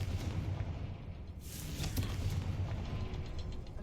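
A Confringo spell explosion in Hogwarts Legacy bursts as a single fiery blast partway through, a loud broadband whoosh and boom rising over a steady low rumble of game ambience.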